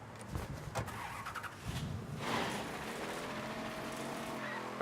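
Car in Mafia 3 being driven: a steady engine drone with a shifting pitch, broken by a few short bumps or knocks early on. No one speaks.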